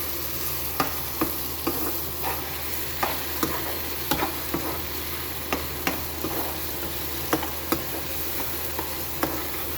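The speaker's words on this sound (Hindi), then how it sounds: "तो ये मसाला भून लूँगी" Masala for egg curry fries in a pan with a constant close hiss, broken by regular spoon taps and scrapes against the pan as it is stirred, about one every second.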